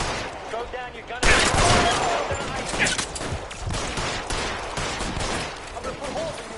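Gunfire in L.A. Noire, a dense burst of overlapping shots starting abruptly after a second and continuing as sustained, loud fusillade with a voice speaking over it.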